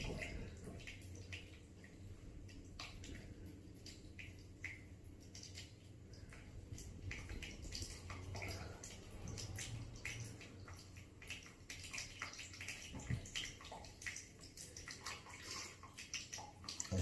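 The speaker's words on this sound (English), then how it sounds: "just move the pipe out, let it drain a bit quicker" Water drains and trickles from a disconnected radiator pipe into a container, a faint, continuous gurgling run with occasional drips, with no talking.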